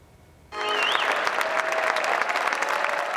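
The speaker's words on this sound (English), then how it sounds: "Applause filled the air as the new Richard Luger Monument made its debut in the Circle City" Loud crowd applause bursts in suddenly after a brief quiet moment and carries on steadily at an outdoor ceremony unveiling the Richard Lugar Monument in Indianapolis, with a faint whistle rising through the clapping.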